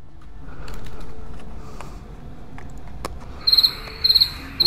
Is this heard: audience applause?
no